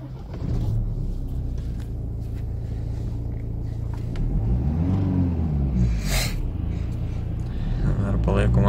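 A car engine after repair runs at steady, even revs with a low continuous rumble close by, while someone talks over it.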